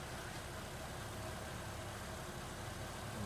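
A car engine idles steadily after a valve cover gasket replacement, a constant low hum with no variation from start to finish.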